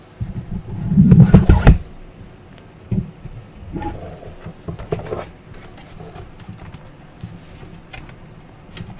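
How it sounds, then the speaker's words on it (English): An extension cable holder comes off the wall indoors with a loud rattling clatter lasting about a second. Fainter bumps and shuffling noises follow, close to the microphone. "My extension cable holder came off the wall."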